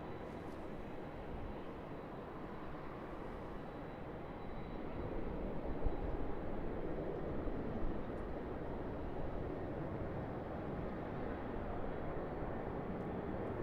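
A DHL cargo plane departing runway 34 right at Sydney Airport makes a steady, broad jet engine roar that swells gently and holds, heard at a distance with no voices.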